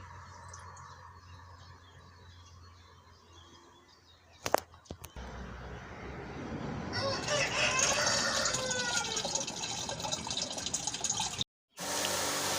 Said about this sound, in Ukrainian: Розводимо 6 мл на 5 літрів води